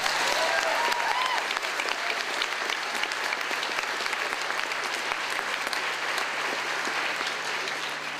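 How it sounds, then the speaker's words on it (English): Audience applause after a performance at a show, a dense, steady clapping that holds at an even level for the full eight seconds with no talking over it. "Let's give them a round of applause."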